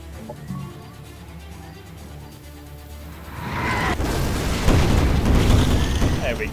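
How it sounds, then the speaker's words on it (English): A shredder bomb detonates in the strategy game Age of Wonders Planetfall, with deep rolling booms and dense crackling blasts swelling loudly after a quieter stretch of background game sound. "So we can drop a shredder bomb."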